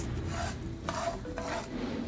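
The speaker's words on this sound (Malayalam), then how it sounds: "കഴുകി ക്ലീൻ ചെയ്ത് വെച്ച് കിനോവ വേണം ഇത് ഫ്രൈ ചെയ്തെടുക്കാം" Quinoa being stirred as it fries in a pan, giving a steady close scraping and rasping with faint sizzle and a few utensil knocks against the pan, with no talking.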